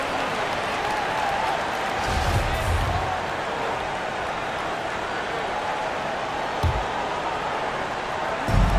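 Steady roar of an arena crowd in the NBA 2K23 basketball video game, Pelicans versus Clippers, swelling a few times with brief cheers and thumps, running continuously under play-by-play commentary.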